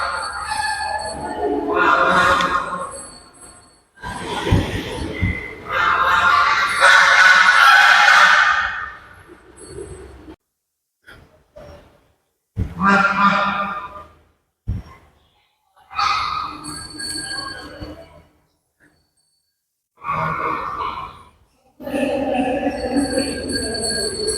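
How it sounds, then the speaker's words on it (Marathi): Geese honk loudly and repeatedly at the Kali Mata temple in Amravati, in bursts of harsh calls separated by short pauses, close by, with someone talking now and then. "इथे कालीमातेच्या मंदिरामध्ये हंस पण आहे हे बघा दाखवतो तुम्हाला हे बघा एक तर इथेच आहे आपल्याजवळ आवाज करून राहिला"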